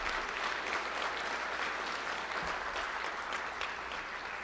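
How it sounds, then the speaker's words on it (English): An audience claps for high school football players at a ceremony, steady sustained applause throughout at moderate distance, dense and even with no speech. "Round of applause."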